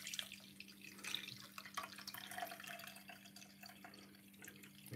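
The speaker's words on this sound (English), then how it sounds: "I'm gonna run it through this strainer right here" Carrot and pomegranate juice drips and trickles through a strainer, faint and close, in irregular patters over a low steady hum.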